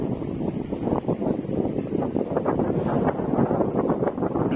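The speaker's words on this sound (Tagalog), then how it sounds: "napakalakas ng hangin" Strong wind roars and buffets the microphone at Mapita View Deck, Aguilar, Pangasinan, amid thick fog, in a steady, loud, low rumble with no voices.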